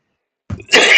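A single short cough after half a second of silence, close and fairly loud, a low throaty burst followed by a brighter rasping exhale.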